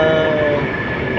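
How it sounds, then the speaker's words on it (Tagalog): Train arriving at a tourist station, a loud continuous rumble of rail cars with a sustained horn-like tone running through it, close and steady for about a second. "Ayan na po ang train."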